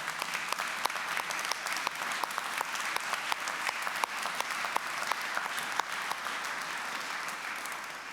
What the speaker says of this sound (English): Maybe we should give Robert a round of applause